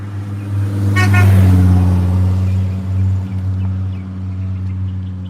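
A short car horn blast sounds as a vehicle passes close by, its engine drone loud and then slowly fading away.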